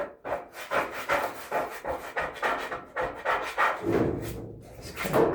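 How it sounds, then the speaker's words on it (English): Gunk being scrubbed out of the groove of a Whirlpool LER3624JQ0 dryer pulley: rhythmic, close rubbing and scraping strokes, repeated steadily with no talk. "I'm going to go ahead and roll those around and clean that little groove area."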